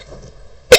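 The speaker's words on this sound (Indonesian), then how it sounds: "mohon maaf juga kalau saya batuk-batuk di video ini karena memang sedang flu" A single short, sharp cough from someone with flu bursts out at the end after near silence.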